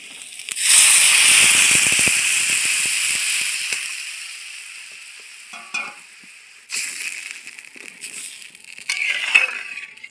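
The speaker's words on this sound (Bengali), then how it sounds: "আমি এখন পরিমাণ মতো জল দিয়ে দেব।" Water poured into a hot pan of vegetable khichuri bursts into a loud, broad sizzle and hiss that slowly fades, followed by a few scraping stirs and fresh spurts of sizzling near the end.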